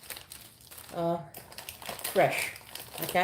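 Someone handles a plastic bag holding stored breakfast ingredients for champorado, making close crinkling and rustling bursts between and under a person's speech.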